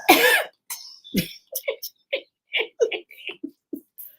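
A single sharp cough up close on a radio show, followed by short spoken phrases with pauses.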